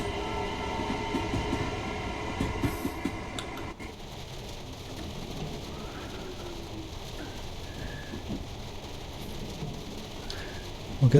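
A Thameslink train rolling along the line in Train Sim World 2's London commuter route, a continuous rumbling drone with cab hum, louder in the opening seconds before settling into a steadier, quieter run.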